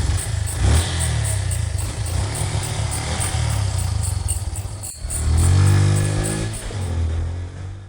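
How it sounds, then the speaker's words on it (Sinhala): A motorbike starts up and pulls away as a story sound effect, its loud engine droning steadily throughout, rising with a rev near the end, over a constant insect-like chirping background. "ටික වෙලාවකින් බයිසිකලේ ස්ටාර්ට් කරලා අනිල් පිට වෙලා යන හඬ අජිත්ට ඇහුණා"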